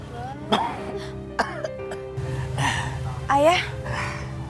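A man coughs and clears his throat in a few sharp bursts, with a steady low hum and some indistinct voices in the background.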